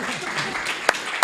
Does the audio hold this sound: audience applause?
yes